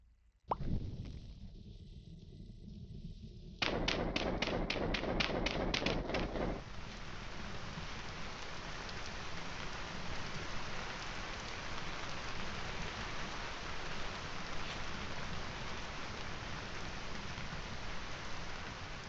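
Steady rain in the video game Vintage Story hisses and patters continuously, with a brief burst of rapid plopping drops near the start, then an even wash of rainfall.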